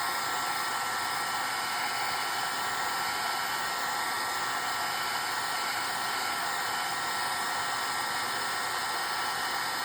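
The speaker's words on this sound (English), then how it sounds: "I probably should have turned my heat gun on a little bit before I did this to get it warmed up" Heat gun blowing steadily as it warms up to heat copy paper embellishments, a constant hissing airflow roar, moderately loud and uninterrupted, with no talk.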